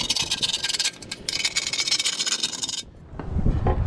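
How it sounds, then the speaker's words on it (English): A chisel scrapes an old cork gasket off the transmission pan of a 2009 Toyota Corolla. The close rasping strokes run steadily, break off briefly near the end, and then give way to a few lower knocks and rubs. "So I'm going to be scraping some of this cork gasket off."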